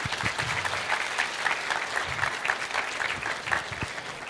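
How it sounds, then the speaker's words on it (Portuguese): An audience claps for a fire brigade officer as he is invited onstage at a Holy Week training event in Pernambuco, giving dense, sustained applause from a large crowd that stays steady throughout, with no talk over it. "Uma salva de palmas."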